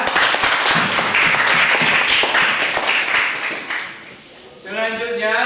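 A classroom of students clapping together in a dense burst of applause that fades after a few seconds, followed by a voice speaking.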